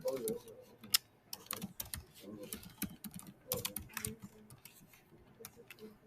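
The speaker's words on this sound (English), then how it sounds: "So I'm going to type it in there." Someone keys numbers from a handout into a computer keyboard, producing quiet, irregular clusters of key clicks with short pauses between bursts.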